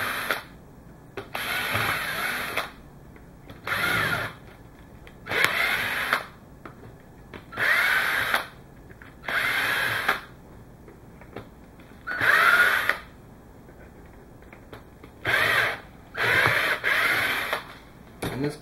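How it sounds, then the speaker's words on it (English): A cordless drill with a Phillips bit whirs in repeated short bursts removing screws, about ten runs with pauses between, close up and mechanical, no one speaking. "we're going to be using a Phillips bit with this drill, extendable bit"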